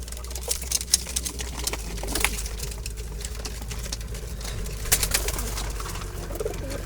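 Jalali pigeons kept in baskets at a pigeon-rearing spot coo steadily, several birds layered together with soft wing patter, over a constant low hum.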